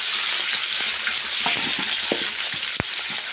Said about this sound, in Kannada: ಎಲ್ಲ ಚೆನ್ನಾಗಿ ಫ್ರೈ ಮಾಡ್ಕೋಬೇಕು ಈರುಳ್ಳಿ ಎಲ್ಲ